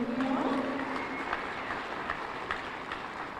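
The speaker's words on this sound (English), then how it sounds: "Let's give them one more round of applause." Moderate audience applause for cheerleaders at a county State of the County address, a soft continuous patter of clapping in a large room that tapers slightly, with a brief tonal murmur near the start.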